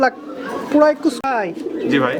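Pigeons at a pigeon farm coo close by in soft, throaty bursts, mixed with people talking nearby.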